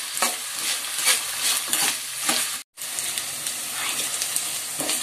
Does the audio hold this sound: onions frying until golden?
yes